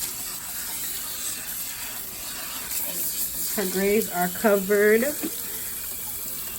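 Lukewarm tap water runs in a soft, steady hiss while hair is rinsed at a salon sink, faint and close, with someone speaking briefly over it.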